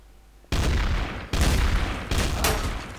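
Loud, close bursts of rapid automatic gunfire from the video game Trouble in Terrorist Town, three long volleys separated by brief breaks.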